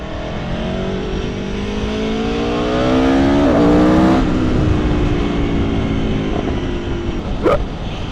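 A 2018 Aprilia Tuono V4 1100 Factory motorcycle's V4 engine rising through the revs and building to a loud, close snarl, then easing back, with a short sharp burst near the end.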